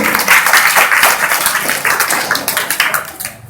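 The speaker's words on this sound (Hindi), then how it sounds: "एक बार ज्योतिबा फूले के लिए तालियां" Audience at an Ambedkar Jayanti gathering in Kailash Nagar, Ghaziabad applauds Jyotiba Phule, loud close clapping in a dense, slightly uneven burst that thins toward the end.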